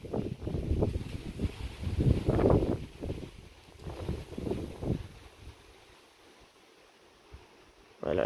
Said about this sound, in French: Oula, le vent.